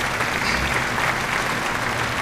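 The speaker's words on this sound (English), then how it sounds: "Now let's give a round of applause for the panel of judges." Audience at a student debate competition applauding the panel of judges: a thick, continuous wash of clapping from a sizable crowd, steady and fairly close.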